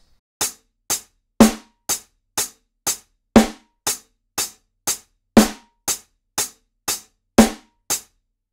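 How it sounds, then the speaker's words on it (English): A finger-drummed hip-hop swing groove: steady eighth-note hi-hat taps with a snare hit on beats 2 and 4, each stroke crisp and short, played alone in a tight repeating groove. "we're gonna add in the snare on the 2 and the 4"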